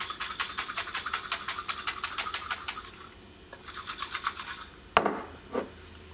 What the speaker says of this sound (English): Now all you need to do is shake the bottle.